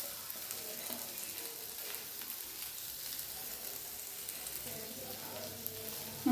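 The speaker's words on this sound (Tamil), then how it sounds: "நம்ம அப்படியே ஸ்லோ ஃப்ளேமில் கொஞ்ச நேரம் இதை வதக்கி எடுத்துக்கலாம்." Sliced okra sautéing in oil over a slow flame, a soft, steady low sizzle with faint stirring scrapes, quiet and continuous.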